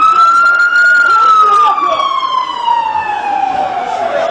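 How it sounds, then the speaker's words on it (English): An ambulance siren wails loud and close amid bombing in occupied Palestine, a single long tone falling slowly in pitch over several seconds above low street rumble. "Now I hear the ambulances running."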